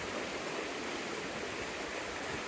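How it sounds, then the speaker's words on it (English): A stream in Ravensburg State Park rushes along with a steady, broadband roar of flowing water, close and continuous, with no voices or other sounds above it. "here's another stream that flows north because of how the elevation is"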